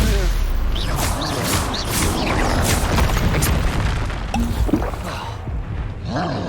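Fire spells in the PC game Hogwarts Legacy go off as loud, booming blasts amid constant combat noise, with crackling bursts and rumbling, while game voices shout over the fighting.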